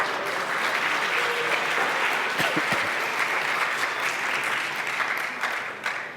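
Audience applause at a Swift Heroes 2019 conference talk, a steady, dense round of clapping from a room full of people that holds for about six seconds before tapering slightly at the end.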